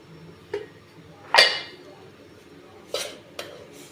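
Metal lid placed over a pot of cooked ragi dough in a home kitchen, a few sharp clinks and one ringing clatter spaced across a few seconds in a quiet room.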